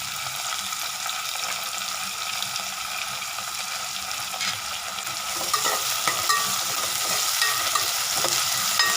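Curry leaves are sautéed in a pan, giving a steady close sizzle with stirring and scraping that grows louder and more crackly toward the end, with no voices.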